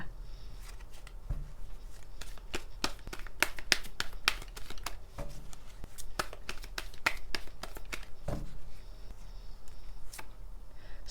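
Oracle cards being shuffled and drawn during a card reading, a run of crisp close snaps and flicks in quick irregular clusters, quiet and up close with no talk.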